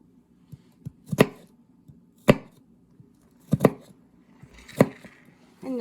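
Chef's knife chopping onions on a cutting board: sharp, distinct knife strikes landing at an irregular pace, clear and close, with no talking.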